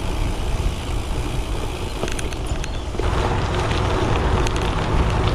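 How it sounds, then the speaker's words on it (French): Steady broadband roar of distant motorway traffic in the canton of Geneva, with gusty wind buffeting the microphone, occasional faint higher whooshes of passing vehicles, no talking. "on est le long de l'autoroute."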